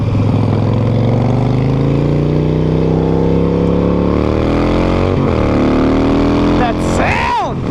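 Harley-Davidson Sportster Roadster motorcycle engine revving and pulling up through the gears, a loud, close rising drone with a pitch that climbs steadily, dips at a shift, then swells again near the end.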